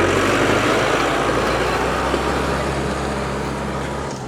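A 2023 Mahindra Novo 605DI CRDI tractor engine runs in power mode, a loud, close, steady diesel rumble with a strong low hum holding constant throughout.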